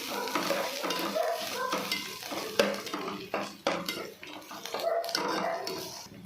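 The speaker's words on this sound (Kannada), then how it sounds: "ಇದರಲ್ಲಿ ನಾನು ಸ್ವಲ್ಪ ಜಿಂಜರ್ ಗಾರ್ಲಿಕ್ ಪೇಸ್ಟ್ ಹಾಕ್ತಿದ್ದೀನಿ. ಹಾಕ್ಕೊಂಡು ಹಸಿರು ಹೋಗೋದು ಚೆನ್ನಾಗಿ ಫ್ರೈ ಮಾಡ್ಕೊಳ್ಬೇಕು." Ginger garlic paste frying and being stirred in a pan while okra is cooked, a steady close sizzle broken by repeated scrapes and clinks of a utensil against the pot.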